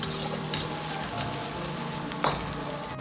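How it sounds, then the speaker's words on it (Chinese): Hot peppers and bird's eye chilies tossed in a wok with celery, giving a continuous loud sizzle with a few sharp spatula scrapes, one especially pronounced near the end. "接着倒入杭椒和小米辣， 翻炒均匀"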